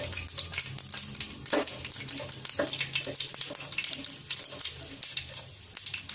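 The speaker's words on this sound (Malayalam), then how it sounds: "കടുക് നന്നായി ഫ്രൈ ആയി വന്നിട്ടുണ്ട്. അതിലേക്ക് വറ്റൽമുളക് ചേർത്ത് കൊടുക്കാം." Mustard seeds and dried red chillies fry in hot oil in a pan for a Kerala ladies finger pachadi, giving a steady crackling sizzle with scattered sharp pops and stirring clatter close by.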